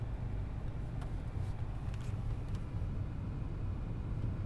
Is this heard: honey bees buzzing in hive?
no